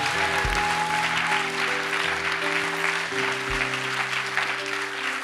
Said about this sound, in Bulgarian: О, ако ръкопляскаш, ръкопляскаш,